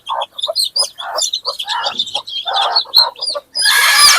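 A short-legged red-white native hen clucks among her chicks, with loud, close, rapid peeps and clucks in quick bursts and a brief scratchy burst at the end.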